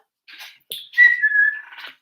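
A person whistles nearby, giving a few short breathy tries and then one clear sustained note that slides gently downward before fading.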